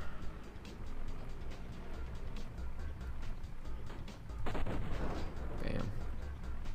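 Dynamite blasting rocks underground in the MotherLoad mining game, with a rumbling burst of explosion noise over a steady engine-like drone, heard beneath someone talking.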